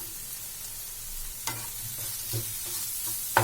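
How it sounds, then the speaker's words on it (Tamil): Spoon scraping and stirring a masala with green chili and curry leaves in a pan, soft sizzle of frying oil underneath with a few distinct clinks and scrapes, fairly quiet and close, no voices. "எல்லாத்தையும் நல்லா மிக்ஸ் பண்ணிடலாம்."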